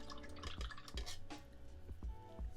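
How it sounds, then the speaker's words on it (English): A paint brush gets rinsed in a water pot during miniature painting, with soft swishing, faint drips and clinks of the brush against the container, quiet and close with a few rhythmic taps. "we're going to wash the brush"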